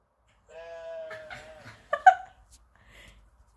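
Sheep bleating nearby in the open: a long wavering bleat, followed by a second shorter, louder call and a faint trailing bleat, quiet between calls.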